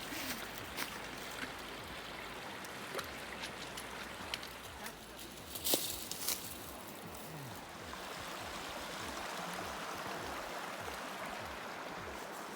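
Water rushes steadily at a stream crossing on a Zion hiking trail, with splashes and scuffing footsteps as people wade through. The flow is close and grows louder toward the end.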